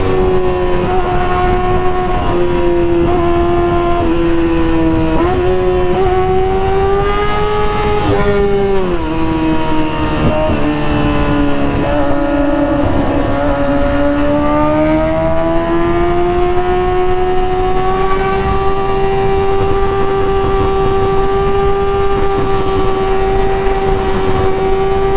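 Kawasaki ZX6R sport bike fitted with an M4GP exhaust, riding through traffic; a loud, continuous engine note rising and falling through gear changes and revs, close up, with wind noise and no talking.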